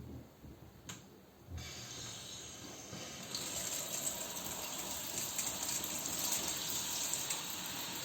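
Water runs from an outdoor faucet through a garden hose, a steady close hiss and gush that starts softly, jumps up at about a second and a half, and grows fuller and louder after three seconds, with no voices.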